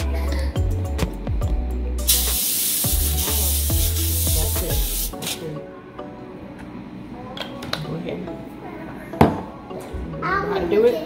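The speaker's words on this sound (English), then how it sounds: "Go ahead and spray your pan." A steady hiss of cooking spray onto a pan lasts about three seconds, followed by light clinks and handling sounds in a kitchen.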